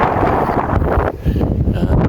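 Strong wind high up on an apartment building in Japan buffets the microphone in heavy, rumbling gusts, with a brief lull midway before roaring again.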